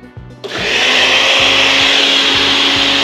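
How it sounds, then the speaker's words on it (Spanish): A kitchen blender starts up on corn cake batter after a few clunks, then whirs loudly and steadily, a close, continuous motor roar with no talking. "Esto va a la licuadora."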